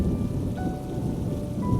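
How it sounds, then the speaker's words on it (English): Rain pours down with low rumbling thunder beneath it in an animated story scene, a steady broadband wash of drops that stays loud and unbroken throughout, with no voices. "The next day it rained."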